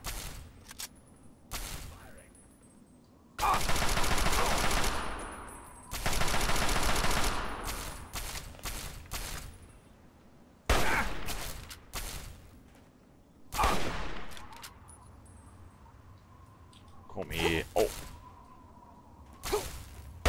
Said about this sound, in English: Sound like the laser rifle.